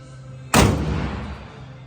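The hood of a 1957 Chevrolet Bel Air is shut with a single loud, close metallic slam that rings and fades over about a second after a brief quiet lead-in.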